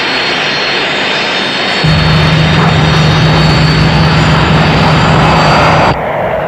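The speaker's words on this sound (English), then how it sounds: "we have diverted these fighters and they are about to overfly the outskirts of this airfield" Fighter jets overfly the outskirts of an airfield with a loud, continuous jet roar that swells and steadies after a couple of seconds, then cuts off abruptly near the end.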